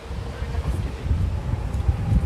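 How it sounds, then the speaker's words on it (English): Gusty wind buffets the microphone during a rainy night walk outdoors in Kawasaki, a steady low rumble that swells and dips throughout without clear breaks. "Oh, it's really windy here again."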